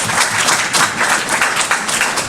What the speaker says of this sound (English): Could you give the bank a round of applause?